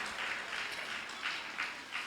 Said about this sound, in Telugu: గట్టిగా చప్పట్లు కొట్టి ప్రభుని స్తుతిద్దాం